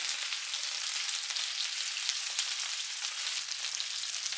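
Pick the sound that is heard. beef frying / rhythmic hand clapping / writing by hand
beef frying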